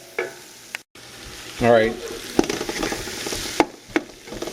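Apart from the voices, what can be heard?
stirring vegetables frying in a pot for gumbo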